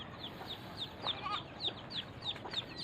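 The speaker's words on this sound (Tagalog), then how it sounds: "yung aking alagang silky. So ayan, nangitlog na siya guys." A pet silkie hen in a backyard clucks in a quick repeating series of short, fairly close calls over low background noise.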